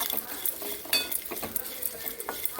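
Java plums roasting in a pan for chutney are stirred briskly with a utensil, giving close scraping clatters over a soft sizzle.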